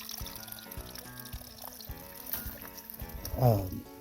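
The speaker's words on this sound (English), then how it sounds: "Looks like a spring-fed stream." Spring-fed stream water pours from a spigot on a Pacific Crest Trail thru-hike, a steady trickle and splash that swells briefly near the end, close and moderately loud.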